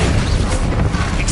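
A Bombarda blast spell from the video game Hogwarts Legacy during a fight: a dense, loud, rumbling burst of explosive noise filling the whole moment, with faint voices mixed in.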